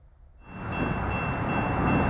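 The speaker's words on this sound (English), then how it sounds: "This is our last train here at Hamilton, Ohio before I have to go back home." Freight train rolling past in Hamilton, Ohio, in winter, a broad steady rumble and rattle of wagons that swells in after a quiet half second and stays loud and close to the end, with no voices.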